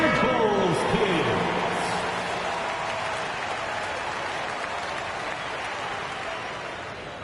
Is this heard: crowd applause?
yes